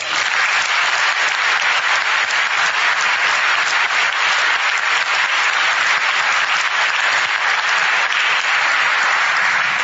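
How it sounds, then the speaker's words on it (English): Sustained audience applause follows a debate on whether God exists between William Lane Craig and Herb Silverman, a dense, steady clapping from a large crowd that fills the hall without pause. "give them another round of applause"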